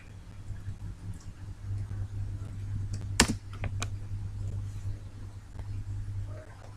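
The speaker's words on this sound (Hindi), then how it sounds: "सबसे पहले ब्राउज़र में जाएंगे, 10 एप्लीकेशन टाइप करेंगे।" Keys are tapped on a computer keyboard, with soft, sparse, irregular clicks and one louder cluster near the middle, over a steady low hum.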